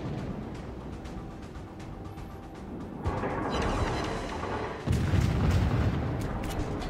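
Naval gunfire from a Clemson-class destroyer in the World of Warships video game: continuous rumbling volleys and booms that swell louder partway through, with no speech over them.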